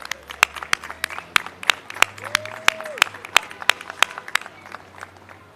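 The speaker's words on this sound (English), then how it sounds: "let's give Alvin a big round of applause and thank him" Sparse, uneven clapping rises from a small audience at a mayoral press conference, with individual sharp claps standing out over low room noise and a brief tone in the middle.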